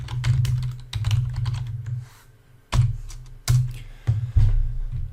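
Someone types a command into a Linux terminal on a computer keyboard: close, crisp clusters of keystrokes with a brief pause mid-way, then a few more sharp taps.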